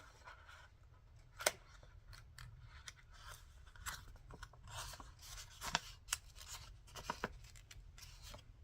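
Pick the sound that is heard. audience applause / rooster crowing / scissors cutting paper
scissors cutting paper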